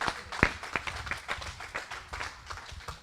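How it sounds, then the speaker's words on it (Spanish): Church congregation clapping for the Lord during a bilingual Spanish-English service, a thin, uneven scattering of handclaps, fairly faint and close, with a few sharper claps standing out. "Un aplauso fuerte al A Señor."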